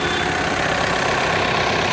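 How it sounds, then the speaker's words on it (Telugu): A 2015 Audi Q3 turbo diesel engine idles loudly and continuously nearby, a dense rattling drone that holds steady throughout with no speech. "ఇంజన్ సౌండ్ చూసుకోండి ఇంజన్ సౌండ్ చాలా నీట్గా ఉంది"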